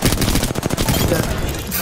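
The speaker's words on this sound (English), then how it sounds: "Who's shooting at us?" Gunfire in a ranked battle-royale video game, rapid bursts of automatic shots in a dense close volley lasting nearly two seconds, with no speech over it.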